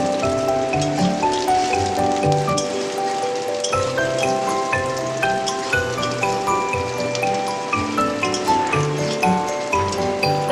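Potatoes added to hot oil with browned onions sizzle and crackle steadily, with dense spitting pops and occasional clinks from a utensil against the pan.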